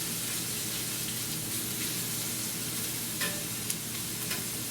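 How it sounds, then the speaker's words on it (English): Chunks of ham and onions sizzle steadily as they fry and caramelize in a pan, a continuous close hiss with a faint scrape or two from stirring near the end. "we got ham and onions. And we're putting a scorch on them. We're kind of caramelizing the onions, caramelizing the ham."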